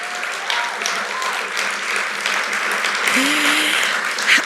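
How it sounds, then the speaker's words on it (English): Audience at a brand launch event in Oshkosh clapping, a steady burst of applause with a few voices and whoops mixed in. "We have to clap now"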